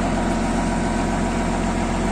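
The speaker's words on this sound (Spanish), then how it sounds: "desde nuevo nunca se ha abierto el motor y anda en perfectas condiciones" A 1978 farm tractor engine idles steadily in a well-maintained condition, producing a continuous low rumble with constant loudness and no pauses.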